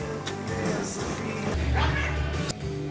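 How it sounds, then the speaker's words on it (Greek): Cats meowing and squabbling indoors, drawn-out yowls and meows rising over a constant background hum, fairly close and loud. "Γάτες, μη μαλώνετε."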